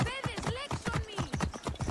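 A horse trots with quick, regular clip-clop hoofbeats in Assassin's Creed Origins, with a voice talking over the hoofbeats.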